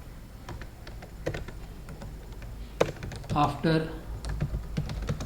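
Clicky tapping on a computer keyboard while typing C++ code, irregular bursts of keystrokes close by, with someone speaking briefly over them.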